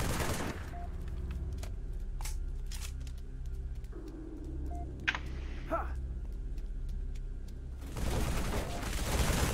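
Assault rifle fire in Halo MCC Flood Firefight: bursts of rapid shots with sharp cracks over a steady droning game background, then heavier broadband firing near the end.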